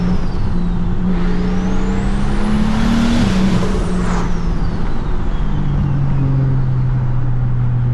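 A single-turbo BMW 335i engine drones steadily while driving, its pitch climbing and then easing, with a continuous loud road and wind roar and a faint high whine rising over it.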